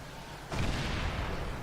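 A tank cannon in World of Tanks, on a T-34-85, fires into the ground with one sudden heavy blast, followed by a dense rumbling wash that holds steady to the end.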